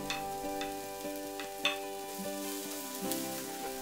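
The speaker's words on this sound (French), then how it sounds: "faire suer une vingtaine de secondes l'ail, ajouter les juliennes de gingembre" Garlic and julienned ginger sweat in a hot pan for fried fish with ginger, a soft, steady sizzle under repeated light stirring taps and scrapes, heard close and without talk.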